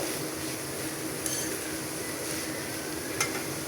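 Cabbage frying in a pan, a steady dense sizzle with faint occasional spoon clinks, close and even in level throughout.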